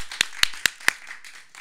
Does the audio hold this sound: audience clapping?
yes